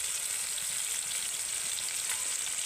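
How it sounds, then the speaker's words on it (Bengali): Spices with salt, turmeric powder and chilli powder fry in a pan for cauliflower chops, a steady close hiss and sizzle with faint stirring and no talking. "এবার এই মশলাগুলো ভালো করে একসাথে কষিয়ে নেব।"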